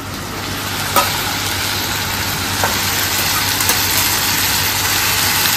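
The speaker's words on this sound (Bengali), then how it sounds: "একটু ভাজা ভাজা হোক" Taro root and chillies fry in a pan with a loud, even sizzle over a low constant hum, broken by a few faint clicks and scrapes.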